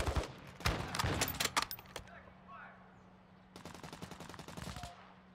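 Rapid bursts of automatic gunfire in the video game DMZ, a dense volley at the start and another sustained burst later, loud and close with a quieter gap between.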